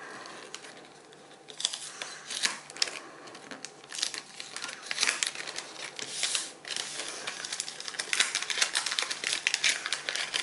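A paper-wrapped parcel tied with twine is unwrapped slowly, with close, continuous crinkling and rustling of paper that grows busier and louder over about ten seconds, with no talking.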